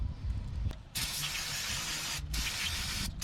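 Aerosol cleaner sprayed in long hissing bursts onto the front brake caliper of a Jeep XJ during a brake pad replacement, loud and close, with brief pauses between sprays.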